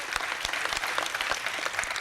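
Audience applause at a 1996 presidential event on youth and tobacco, a dense, steady wash of clapping from a large crowd with no speech over it.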